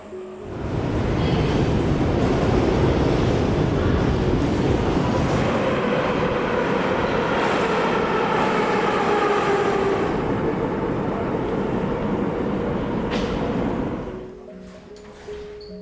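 A Tbilisi metro train rumbles through an underground tunnel, a loud, steady roar of wheels and carriage noise that holds for most of the time before dropping away near the end.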